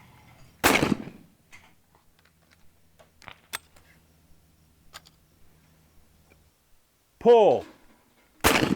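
Two loud, sharp shotgun blasts at skeet clay targets, one near the start and one at the very end, with a short spoken call and light clicks and handling noises in the quiet between them.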